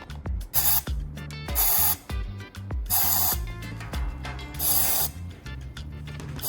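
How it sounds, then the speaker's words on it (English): WD-40 sprayed into a cup for headlight restoration: a series of five to six sharp, loud hissing bursts in an irregular rhythm, each with a rattling can click, with no talking. "I'm going to spray about 5 to 6 times into the cup."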